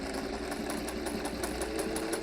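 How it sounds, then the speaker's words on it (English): A sewing machine stitches a convex curved seam in fabric, a quick steady rapid clatter of the needle running close and moderately quiet. "I'm going to stitch my convex curved seam really quick"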